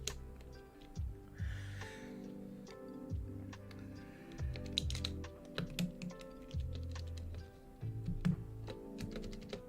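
Fingers type on a mechanical keyboard with unlubricated switches, a rapid run of sharp clicky keystrokes in uneven bursts, close and fairly quiet, with brief pauses between flurries.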